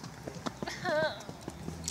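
Horse hooves clip-clopping past on a road in New Zealand, a rhythmic series of sharp knocks close by, with a brief whinny-like cry in the middle.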